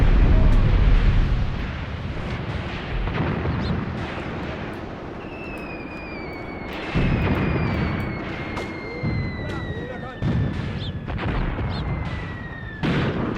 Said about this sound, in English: That artillery attack really did finish most of our boys off.